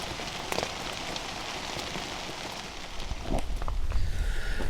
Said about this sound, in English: When it's raining like this and you're cold and wet